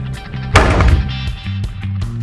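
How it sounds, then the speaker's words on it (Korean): A single loud bang of a kitchen sink cabinet door slamming shut, sharp and close, followed by faint light knocks. "싱크대 문 닫을 때 쾅 하는 소리"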